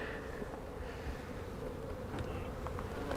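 Dense, continuous buzzing of many honey bees close by at a hive, a steady drone with no talking.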